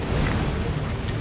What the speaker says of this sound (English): Explosion. Should have rolled into that one.